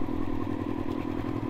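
A nearby Honda CBR929RR motorcycle with dual exhaust idles with a loud, rhythmic, lumpy exhaust pulse, a deep throbbing burble repeating evenly throughout.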